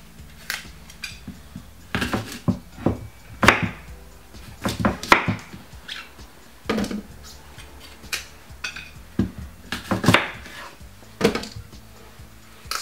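Apples being cut up by hand for Jamaican apple juice, a string of sharp knife taps and clacks on a board with uneven pauses, close and fairly crisp.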